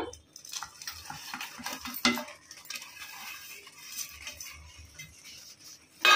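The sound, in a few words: adding jaggery and stirring cooked rice in pot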